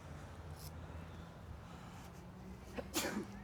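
A single human sneeze near the end, close and fairly sharp, heard outdoors in a botanical garden in Bogotá over a low background hum, with no talk.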